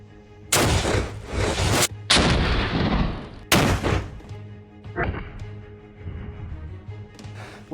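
A Soviet WW2 14.5mm anti-tank rifle fires incendiary rounds at a sandstone target outdoors, producing several loud, sharp blasts with long rumbling decays spaced a second or so apart.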